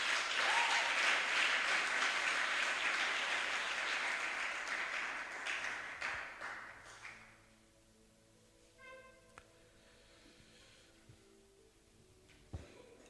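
A church congregation bursts into loud, sustained applause that fills the room, then fades out around the midpoint, leaving quieter tones and a few faint knocks behind.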